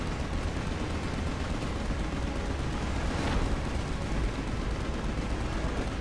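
Continuous gunfire rattles from a weapon aimed at an enemy in the video game Final Fantasy XV, a dense, steady, loud barrage without pause across the whole stretch.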